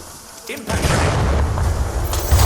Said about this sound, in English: Impact grenade.